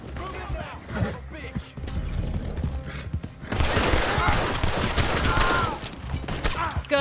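Gunfire crackles through a video game shootout, with bursts of shots and horse sounds mixed in, growing denser and louder in the second half as a player talks over it.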